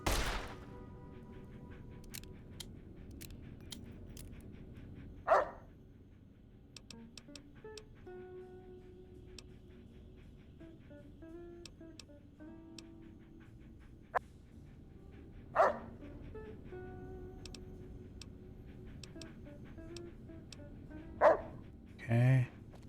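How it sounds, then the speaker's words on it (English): A dog barks a few times, short and moderately close, in the video game Fallout New Vegas, spaced out over quiet game ambience with faint tonal chimes and clicks. "What the? Oh, that's my dog."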